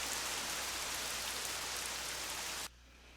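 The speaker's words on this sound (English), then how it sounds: "Oh, great. It's raining." Steady rain pours in the video game Lost Odyssey, a dense even hiss that holds level and then cuts off abruptly near the end, leaving near silence.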